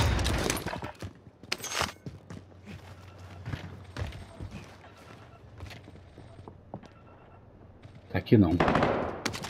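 Scattered gunshots in Call of Duty: Modern Warfare, a few sharp cracks early and a louder burst near the end, separated by quieter stretches with footsteps and players talking in Portuguese.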